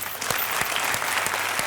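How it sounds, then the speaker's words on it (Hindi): Studio audience clapping on a Hindi celebrity talk show, brisk and fairly loud, with individual sharp claps standing out in a rough rhythm over the general applause. "तालियां।"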